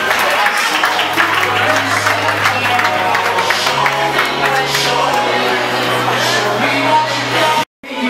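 Audience applause and cheering fill a fashion show runway space, loud and steady throughout, with a low sustained hum underneath and a brief cut near the end.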